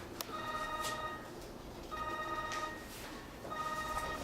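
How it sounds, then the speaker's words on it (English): A mobile phone ringtone from inside a pocket repeats three times in short electronic bursts, quiet and slightly distant, with pauses between rings. "It sounds like my phone."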